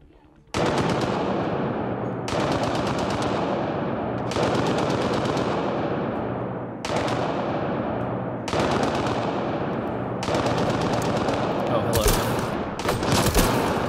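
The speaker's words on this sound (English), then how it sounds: "Assault rifle." Assault rifle fire in the video game Mass Effect: Andromeda comes in loud, sustained automatic bursts of roughly two seconds each, repeated about six times with brief pauses between them and a sharper crack near the end.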